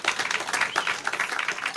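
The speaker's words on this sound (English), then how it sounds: "round of applause for that, definitely." A brief round of applause from an audience, dense continuous clapping lasting under two seconds at moderate loudness, with no talking.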